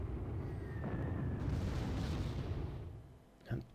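Heavy artillery impacts from the WWII strategy game Panzer Corps, set in a Norway battle: a sustained, dense rumble of blasts with one sharper boom near the end.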